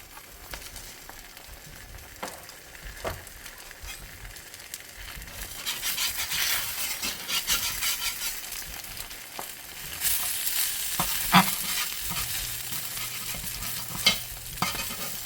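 Spam slices frying in a cast iron pan with pepper, cooked until crispy: a steady sizzle that swells louder midway, broken by scraping and stirring taps and a few light clinks, with no talk.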